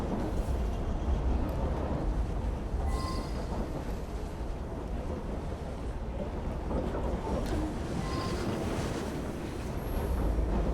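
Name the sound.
moving train in a video game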